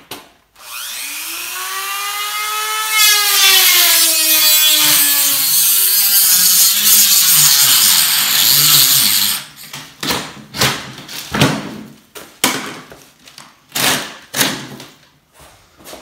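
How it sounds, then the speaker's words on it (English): A Dremel rotary cutting tool spins up and grinds into fireplace material during a family room remodel, a loud rising whine that settles into a harsh continuous cut, then stops for a series of sharp scraping and knocking sounds. "So I'm going to use, you know, more or less a Dremel tool, a rotary cutting tool, to try to see if I can get a little bit better cut."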